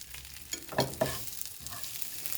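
Onion and bread frying in a pan for homemade iftar burgers, a steady low sizzle broken by a few sharp scraping stirs near the start, with no voices.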